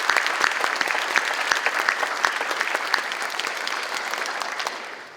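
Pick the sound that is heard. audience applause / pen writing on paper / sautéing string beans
audience applause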